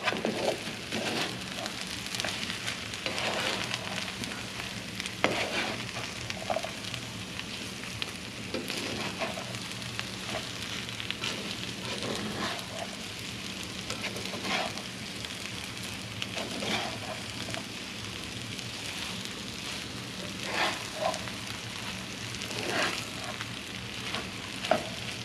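A hot pan loaded with burrito filling sizzles and crackles without pause, a dense close frying hiss with scattered pops, no one speaking.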